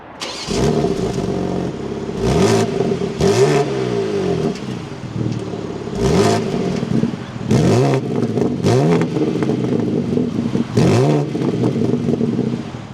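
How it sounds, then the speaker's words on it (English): A 2026 BMW M2 twin-turbo engine fires up and is revved repeatedly, with sharp rising and falling sweeps over a steady idle, loud and close with no talking. "But let's start this back up and take a listen to how this sounds."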